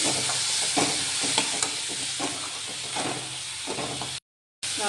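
Ground masala paste frying in oil for brinjal palya, giving a loud, continuous close sizzle with soft stirring scrapes, then a brief dropout near the end.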